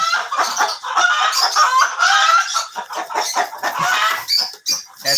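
Colombian Light Brahma hens and a rooster clucking close by, a busy run of overlapping clucks and short calls with no pauses.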